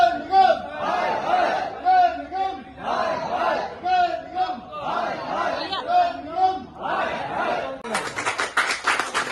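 Angry traders outside a municipal corporation office chant protest slogans together in loud, rhythmic repeated bursts, voices swelling and falling, ending in a sharp rush of clapping and crowd noise.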